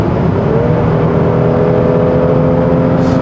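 A 2023 Honda Pilot 3.5-litre V6 SUV engine hums smoothly as it accelerates, its tone climbing steadily, heard from inside the vehicle with no talking.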